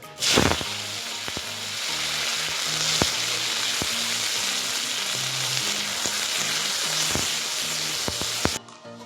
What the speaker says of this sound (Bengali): ঘিটা গরম হয়ে গেছে, কিশমিশ কাজুটাকে একটু ভেজে নেব আগে।